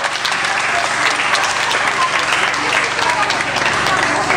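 Audience at a comedy show breaking into loud, sustained applause, dense clapping from a packed room that stays steady throughout with voices mixed in.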